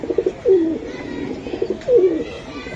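Racer pigeon cooing close by, two soft throaty coos about a second and a half apart over a quiet background.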